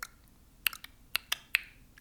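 A person makes several sharp, quiet tongue clicks at an irregular pace, close to the microphone, over a low background hiss with no talking.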